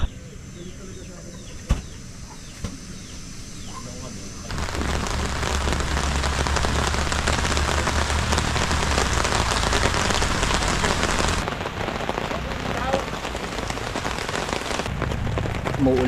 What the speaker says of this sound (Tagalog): Umuulan na mga kapanalig pero ready tayo dahil meron tayong tarp